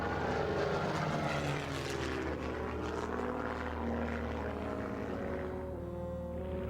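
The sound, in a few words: Messerschmitt 109 fighter aircraft engine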